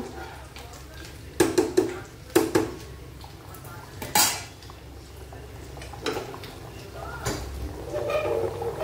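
A metal lid clanks onto a cooking pot of mutton kosha curry in a home kitchen, giving a few sharp, close clinks and knocks amid soft background noise while someone talks.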